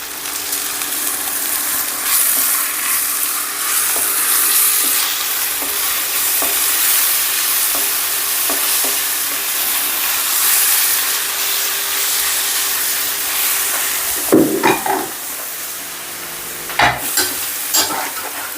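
Onions and tomatoes sizzle in hot oil for an anchovy fish biryani, with a constant frying hiss and a few sharp spoon scrapes of stirring near the end.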